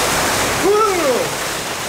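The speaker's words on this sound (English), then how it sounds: "douse me with the ice water" Ice water dumped from a bucket over a university president during an outdoor ice bucket challenge: a broad splashing rush of water across a steady wash of noise, with a voice crying out during it.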